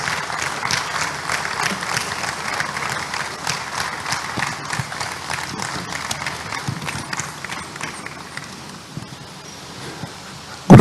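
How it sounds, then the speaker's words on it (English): Audience at an opening ceremony business session claps to welcome guest speakers, a sparse, uneven patter of hands that thins out over time before a sudden loud knock at the very end. "let's welcome our guests with a round of applause until they begin to speak"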